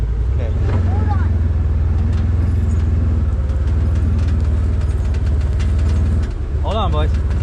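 A tractor pulling a Bednar Duracut mower runs with a loud, steady low engine drone, heard close throughout, while people talk over it and a brief voiced whoop rises near the end.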